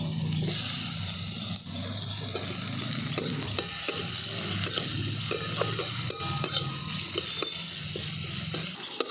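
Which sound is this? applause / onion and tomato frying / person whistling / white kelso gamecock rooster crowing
onion and tomato frying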